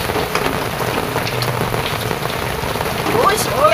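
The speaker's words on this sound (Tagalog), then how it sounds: "Yung malakas pa ang ulan," Heavy rain pours steadily and loudly on nearby surfaces, a dense continuous hiss that swells slightly toward the end.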